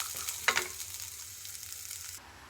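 Peanuts fry with curry leaves in a pan as a steady close sizzle, with a sharp clatter of stirring near the start, before the sizzle drops away abruptly near the end.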